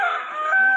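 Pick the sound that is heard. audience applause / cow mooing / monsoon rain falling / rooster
rooster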